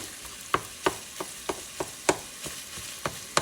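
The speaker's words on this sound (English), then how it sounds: "Let these saute together." Sausage, onions and peppers sautéing in a pan, a continuous close sizzle punctuated by roughly a dozen evenly spaced scraping strokes of a stirring utensil.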